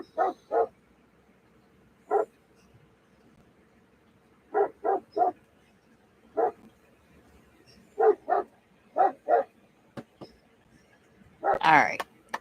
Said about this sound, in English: He's barking at the train that's going by.